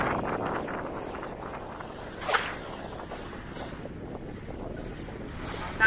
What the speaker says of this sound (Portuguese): E agora ele tá mó chuva, mó vento.